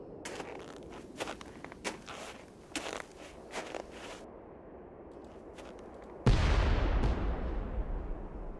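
An explosion in a snowy Nancy Drew game hits suddenly after a series of soft crunching footsteps, a loud, booming blast that then rumbles and slowly fades over several seconds.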